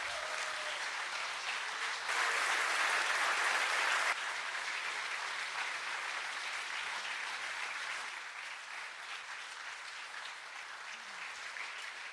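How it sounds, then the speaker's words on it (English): An audience at a solar car race awards ceremony breaks into sustained applause, swelling briefly louder, then easing into steady clapping that thins slightly toward the end, with no speech over it. "give yourselves another round of applause"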